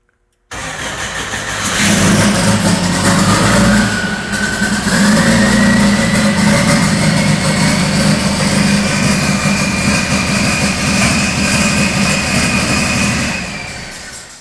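A fire station engine cranks and fires up, then runs at a loud, steady roar close by, its pitch rising slightly as it settles, before easing down near the end.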